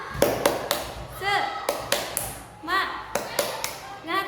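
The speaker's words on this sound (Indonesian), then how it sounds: "Yuk semuanya kita tepuk semangat dulu ya." Primary school pupils in a combined classroom do a 'tepuk semangat' clapping chant, sharp group claps in a patterned rhythm with pauses between, and young voices chant along between the claps.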